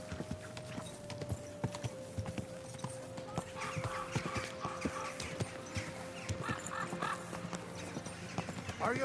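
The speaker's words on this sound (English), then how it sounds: "Don't you know how to keep your horse under control?" Horse hooves clip-clop along a street in Kingdom Come Deliverance 2, with a horse whinnying partway through, a steady close trot that runs the whole time alongside faint background voices.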